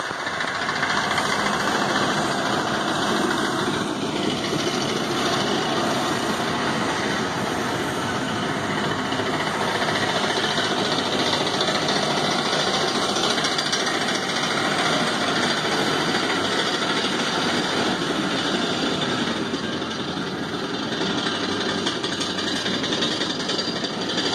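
A tractor engine runs nearby outdoors, a loud continuous mechanical drone that holds steady for the whole stretch without pause.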